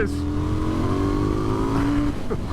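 A KTM 990 Duke R motorcycle pulls hard through the gears, its engine note climbing steadily in pitch with rushing wind, then dropping sharply at a shift near the end.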